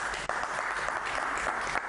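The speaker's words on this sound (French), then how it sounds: "On applaudit pour toute l'équipe technique, voilà." A television studio audience applauds the technical team at the close of a broadcast debate, a steady wash of clapping that runs briefly and fairly quietly from start to finish.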